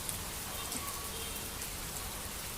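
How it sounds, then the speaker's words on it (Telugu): Steady night rain falls in a dense, even hiss of drops hitting surfaces, faint and unbroken throughout with no voices. "సమ్మర్లో దగ్గర కావాలనుకున్నామండి వర్షాన్ని, దెబ్బకి వచ్చేసింది"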